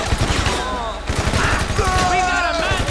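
Rifle fire in GTA V Online rattles in rapid, continuous bursts, loud and close, with a radio-style voice speaking over the shooting.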